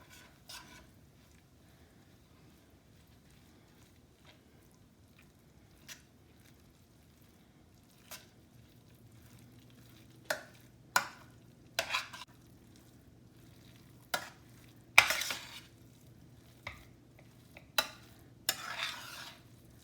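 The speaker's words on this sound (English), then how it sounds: "I'm going to go ahead and get this mixed up a little bit" A spoon works tomato paste and tomato sauce around a pan for lasagna, giving scattered soft scrapes and wet squishes that grow more frequent toward the end, close and fairly quiet.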